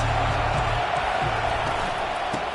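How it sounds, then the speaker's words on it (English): A stadium crowd roars steadily at a college football game, a dense, loud wash of cheering that fills the whole stretch without letup. "They challenge this crowd to bring the energy, and I'd say they're doing that."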